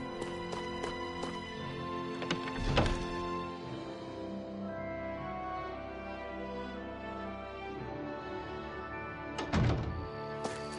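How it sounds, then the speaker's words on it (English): Metal hammers strike in a forge setting in the video game Tales of Arise, a few distinct clanging impacts around the start and again near the end over a steady ambient game soundscape, with no talking. "I always love the sound of hammers banging away."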